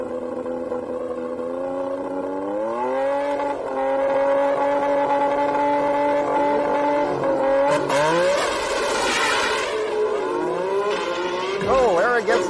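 A 1996 Nissan 300ZX import drag race car runs hard, its engine tone climbing steadily in a long sustained wail, then a burst of rougher roaring near the end, loud under an announcer's continuous commentary.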